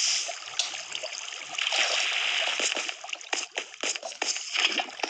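Rushing, splashing water from a Minecraft Pocket Edition waterfall pours steadily, with scattered bursts of splatter over the constant flow.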